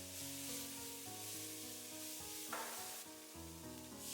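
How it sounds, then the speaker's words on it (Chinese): Broccoli stir-fried with soybean paste, seasoning and salt, tossed quickly with a spatula in a wok, giving a steady close sizzle under a continuous musical backdrop, with a brief scrape of the spatula partway through. "用鏟子将它們快速的翻炒均匀"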